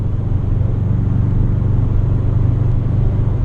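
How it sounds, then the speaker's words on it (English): Steady low cabin drone inside a 2013 Subaru WRX cruising at about 70 mph, a continuous even rumble of engine and road noise that runs the whole time with no talking. "there is going to be some more drone inside the cabin of the car while driving"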